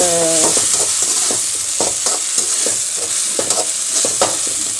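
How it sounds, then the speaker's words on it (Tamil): Tomato and onion sautéing in oil for a rasam dish, a loud close sizzle with repeated scraping stirs of a spoon against the pan in an irregular rhythm. "தக்காளியும் வெங்காயம் எப்படி வதங்கி வருது பாருங்கள்"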